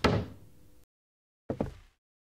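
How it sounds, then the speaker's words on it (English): Knocking at a front door in an indie horror video game: a muffled thump followed after a pause by a quick double knock, close and dull, with no talk over it. "I could have sworn I just heard somebody knocking at my front door."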